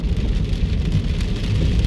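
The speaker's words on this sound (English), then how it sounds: "as the rain starts to fall a little more heavily now" Heavy rain pounds steadily on a car while driving south on Nellis Boulevard toward Henderson, a dense, continuous wash of drumming water with low road rumble underneath, loud and close with no talking.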